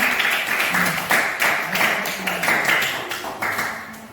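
A small group in a classroom claps in a steady, fairly fast rhythm, the applause continuous and close for a few seconds.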